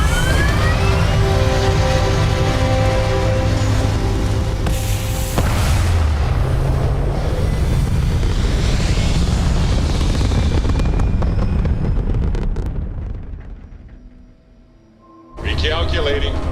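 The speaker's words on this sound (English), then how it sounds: "thrust is firing." Spaceship thrusters firing in the video game Starfield, a loud, sustained roaring rumble with a deep low-end drone that holds for over ten seconds, then fades before a brief renewed burst.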